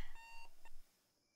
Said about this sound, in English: I love the sound of an alarm